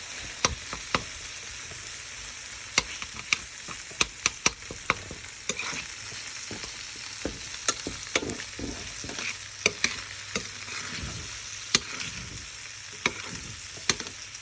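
Eggs in a frying pan sizzle steadily while a utensil stirs and scrapes, sharp clicks and taps scattered through the close, moderate frying sound, with no voices.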